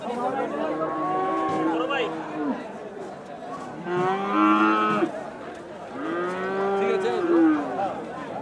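Cattle at a rural village cattle market moo in three long, loud calls close by, with crowd chatter and talk faintly underneath.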